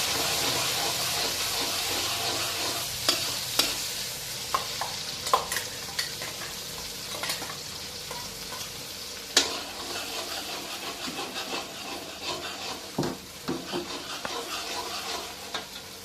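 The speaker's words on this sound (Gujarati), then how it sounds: "તો આપણે તેલ ગરમ થઈ ગયું છે તો આપણે ટમેટા અને ડુંગળી ગ્રેવી નાખી દેવાની છે" Tomato and onion gravy for Mumbai-style pav bhaji sizzling in hot oil in a pan, a steady frying hiss with scattered pops and crackles, close and fairly quiet, heard alone.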